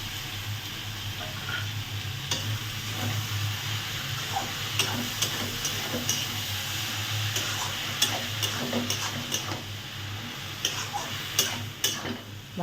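Mushrooms stirred and frying with spices and a little water in a pan for a Bengali-style mushroom curry, a steady soft sizzle broken by repeated spoon scrapes and clicks, close and moderately loud, with no talking.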